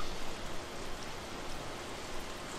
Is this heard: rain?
yes